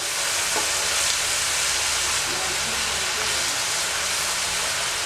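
Sliced onions sautéing in a pan, a steady, even sizzle that continues unbroken and fairly loud throughout.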